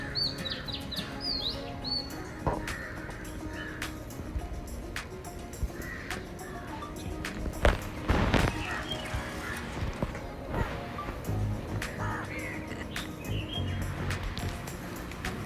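Crows and other birds call at evening near a riverside resort, scattered chirps and caws at middling distance over a constant outdoor background, with occasional louder knocks and rustles.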